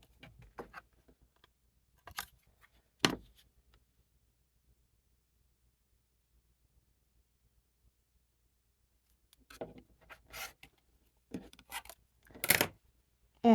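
Rotary or straight cuts through stacked quilting fabric layers guided by a specialty ruler for half-square triangles, heard as a few short, sharp cutting strokes near the mic, separated by a long quiet gap, then a cluster of brisk swipes.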